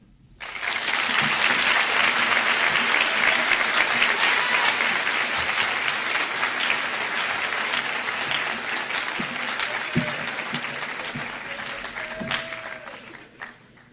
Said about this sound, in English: let's give another round of applause to all of today's speakers